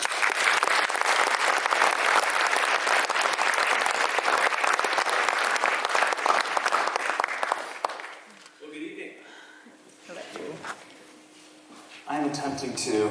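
An audience at a manufacturing day event gives loud, sustained applause for about eight seconds, then it fades out and a voice talks over low room noise.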